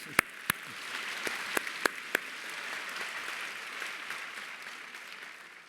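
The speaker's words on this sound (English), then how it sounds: "let's give Gail another round of applause for a fantastic speech" Commencement audience applauding a speaker at a fall business school graduation ceremony, a steady wash of clapping throughout with a few sharp, louder claps near the start.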